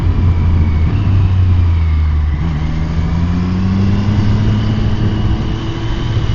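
Triumph 765 R motorcycle engine with quickshifter droning steadily while riding, its pitch climbing smoothly through shifts, close and loud with constant wind rush and no talk.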